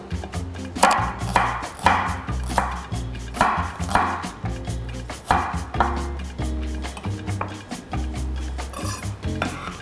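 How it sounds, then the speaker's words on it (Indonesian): A knife chops shallots into thick pieces on a cutting board for Balinese jukut bejek, a steady run of loud, close thuds and knocks, about two chops a second, with no talking. "Nih bawang merahnya kita potong-potong agak tebal-tebal"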